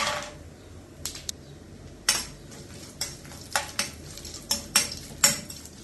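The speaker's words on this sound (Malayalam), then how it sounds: "കടുക് പൊട്ടിക്കഴിയുമ്പം ഇതിലേക്ക് കുറച്ച് അണ്ടിപ്പരിപ്പിട്ട് വഴറ്റാം" Quiet frying hiss of cashews sautéing in hot oil after mustard seeds, under repeated metallic clinks and scrapes of a spoon against the pan, stirring in an uneven rhythm, close by.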